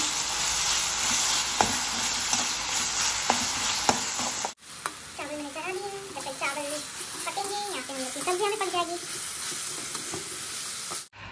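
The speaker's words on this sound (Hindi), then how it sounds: "ये अदरक मिर्ची का पेस्ट मैंने डाला है तो थोड़ा भून के" Ginger and green chili paste fries in a pan with a loud, dense, steady sizzle for about four seconds before cutting abruptly to voices talking, including a child.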